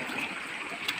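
River water runs and splashes steadily in a continuous broadband wash, with one brief brighter splash near the end and no voices.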